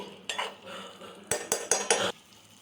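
A spoon stirs tomato curry with coriander powder in a pan, making a few scraping strokes and then a fast cluster of metallic knocks against the pan over a soft sizzle, close by, with no speech.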